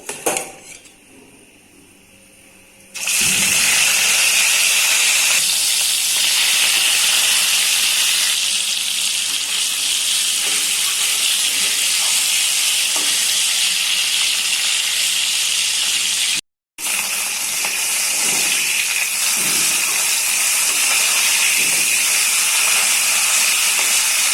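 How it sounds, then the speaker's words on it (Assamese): A steady, loud hiss of rohu fish frying in oil fills the space after a quiet start, continuous and broad, with a brief cut near the end. "এনেকৈ বাকীখিনি মাছো ফ্ৰাই কৰি লওঁ।"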